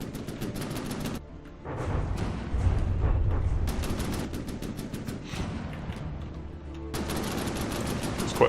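A heavily armed, armoured landship in From the Depths fires a long barrage, with dense rapid volleys of gunfire and booms. Brief lulls break the bursts before heavy firing resumes.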